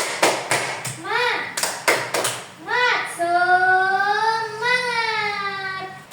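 A group of children and a teacher do a rhythmic spirit clap in a classroom: sharp bursts of claps in patterned sets alternating with chanted voices, then sustained sung or shouted tones.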